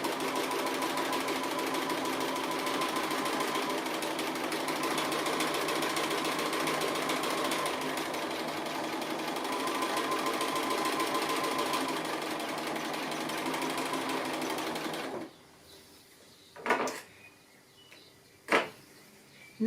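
A sewing machine stitches steadily around the edge of an appliqué piece, running continuously for about fifteen seconds before stopping, followed by a few faint clicks and knocks.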